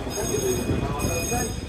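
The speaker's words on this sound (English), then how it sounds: "What a cute little train." A small amusement park train rumbles along steadily nearby, wheels rolling with a continuous low clatter and faint squeal, voices murmuring in the background.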